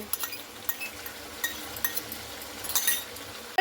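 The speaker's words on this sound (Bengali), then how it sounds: "টক দইটা দিয়েও খুব ভালো করে দেখুন এইভাবে আমি নাড়াচাড়া করে নেব" Yogurt being stirred into chicken pieces in a bowl, heard as soft, close clinks and scrapes of a spoon against the bowl in an irregular rhythm, fairly quiet with no talk.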